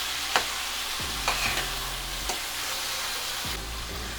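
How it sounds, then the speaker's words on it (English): Beef frying in a pan over medium-high heat sizzles steadily, broken by several scraping stirring strokes at irregular intervals, close up with no talking. "Just going to keep stirring"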